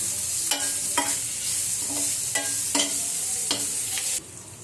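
Spices with turmeric powder and salt fry in a pan, a close sizzling hiss broken by about five rhythmic scraping strokes of a spoon stirring, then a quieter pause at the end.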